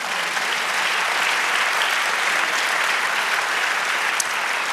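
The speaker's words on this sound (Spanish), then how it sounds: "Dele aplauso al Señor" Congregation applause during a church service, a continuous, dense wash of many hands clapping at steady loudness from start to finish.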